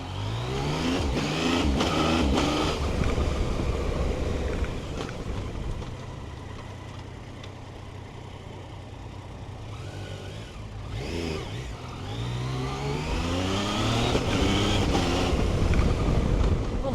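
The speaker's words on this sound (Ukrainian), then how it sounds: "Я по привичці почав газ кидати на квікшифтері" A Yamaha Tracer 900 GT motorcycle engine revs through quickshifter gear changes. The engine tone repeatedly rises and falls, mixed with wind rush, and is heard close and moderately loud.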